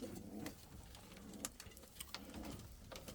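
Fantail pigeons in a breeding loft cooing softly in low, rolling phrases, with a few sharp clicks and rustles around them and no talking.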